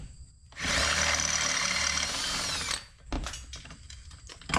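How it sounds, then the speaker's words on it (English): A loud, steady power drill drilling out a rivet whines for about two seconds, then cuts off, followed by scattered clicks and rattling of metal parts. "and then you can get back to drilling."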